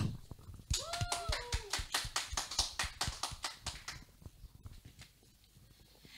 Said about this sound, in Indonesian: Sekali lagi mari kita beri aplaus dulu